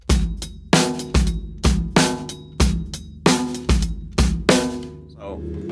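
Drum kit groove with a deliberately uneven sixteenth-note bass drum subdivision, eight strong beats with cymbal wash repeating steadily and close, the kick pattern slightly lopsided, ending on a softer trailing hit.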